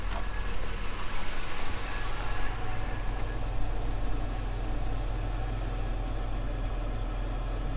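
A 1978 Jaguar XJ6 Series 2 barn find engine idles steadily at around 800 revs, a continuous low rumble ticking over close by with no other sounds.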